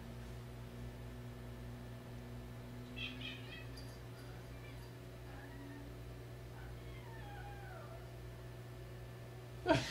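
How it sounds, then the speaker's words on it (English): A male house cat gives a series of odd, warbling meows between about 3 and 8 seconds, faint and somewhat distant, over a steady low hum from nearby electronics. "He's making the weirdest meow I think I've ever heard him meow."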